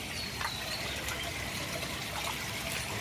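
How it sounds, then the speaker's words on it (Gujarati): Water runs steadily at a village cowshed, a soft continuous trickle and dribble heard from a short distance, quiet and unbroken, with no voices. "ગોવારામ પાણી ચાલુ કરીને વયો ગયો."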